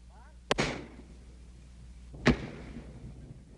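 An RPG-2 rocket-propelled grenade fired on a South Vietnamese Army weapons range gives a sharp launch crack followed by a rushing tail. A second loud blast comes about two seconds later and fades into the open air.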